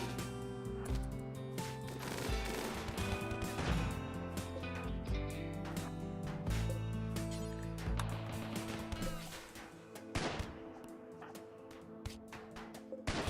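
Turrets and guns firing during a RimWorld combat, with rapid sharp shots and clattering bursts layered over a steady musical backdrop throughout.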